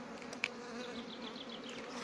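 Honeybees buzz continuously close by at an apiary nucleus hive, a soft steady drone with a few louder passes of individual bees.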